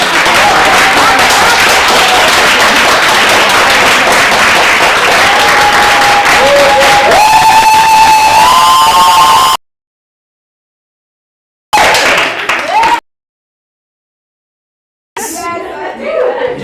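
Audience applause and clapping at a motivational business seminar, a dense, steady wash of hands filling the room for about nine seconds, then cut into short fragments separated by silence, with voices and crowd chatter mixed in.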